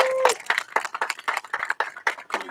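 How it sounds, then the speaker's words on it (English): Audience clapping at an outdoor Pride flag raising ceremony in Soledad, a dense run of hand claps that holds steady for a few seconds, with a brief tone near the start. "Let's give them a round of applause"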